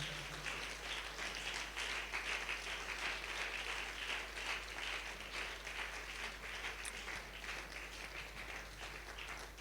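A standing church congregation applauds an evangelist, steady dense clapping from many hands filling the room at moderate volume, continuous and even throughout.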